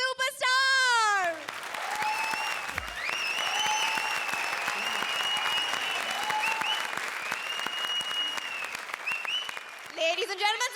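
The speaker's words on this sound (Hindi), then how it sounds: "Ladies and gentlemen, a big applause for Comedy Circus के सबसे बड़े सुपरस्टार।" A television comedy show's studio audience applauds loudly for a superstar, with steady, dense clapping under bright music, bracketed by brief bursts of singing or cheering at the start and end.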